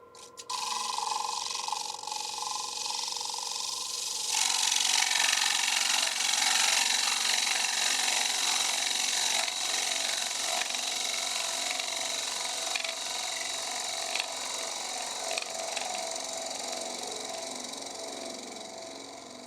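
A gouge cuts into a spinning wooden bowl on a lathe, giving a steady, loud scraping hiss that runs without a break. The sound grows brighter and fuller a few seconds in, then carries on evenly to the end.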